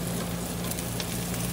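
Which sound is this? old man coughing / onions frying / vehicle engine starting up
onions frying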